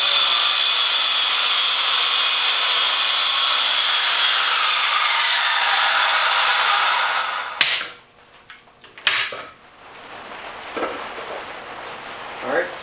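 A power saw runs through a sheet of plywood in a continuous loud rasping cut that lasts several seconds and then stops abruptly, followed by quieter clunks and handling noises.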